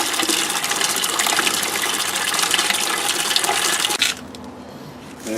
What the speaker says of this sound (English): As the water's going in, that's just rainwater from the barrel.